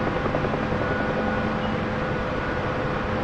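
A UH-1H Huey helicopter in the DCS flight simulator, hovering low near the ground, with a dense steady rotor and turbine roar filling the whole stretch at constant loudness.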